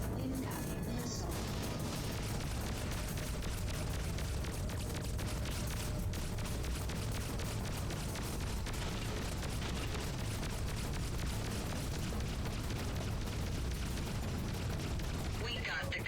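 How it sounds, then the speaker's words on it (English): Missile explosions and weapons fire in the space combat game Freelancer, a dense, continuous barrage of booms and crashes layered over music and speech throughout. "Incoming missile."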